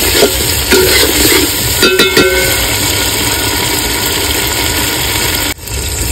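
Ground spice paste sizzles in a pan with fried onions for a mutton curry, a steady close hiss of frying that runs on with no talk and briefly cuts out near the end.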